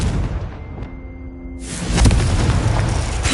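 A Confringo blasting spell in the video game Hogwarts Legacy, a short ringing whoosh that builds, then a heavy booming explosion with a rumbling, crackling tail, close and loud, with no speech.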